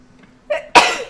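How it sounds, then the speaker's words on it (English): A single sneeze indoors at a noodle bar counter: a brief inhaled build-up, then one sharp, loud burst that tails off quickly against a quiet background. "I have a sneeze coming."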